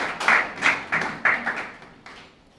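Applause from an audience at an Urdu poetry recital (mushaira), heard as a short burst of about five quick clap-like hits in a steady rhythm, close and fairly loud, tapering off with a last faint one.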